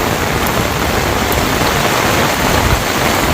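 Steady rain falling in a village, a dense, even hiss of drops on surfaces that stays constant and fairly loud from start to finish, with no voices.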